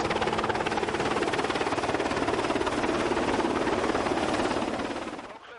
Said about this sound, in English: for when a helicopter is close, it's difficult to communicate